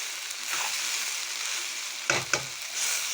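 Sliced bitter gourd fries in hot oil in a pan, giving a steady close sizzle, with two short scraping stirs of a spoon partway through.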